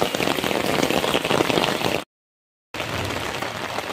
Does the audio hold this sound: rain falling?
yes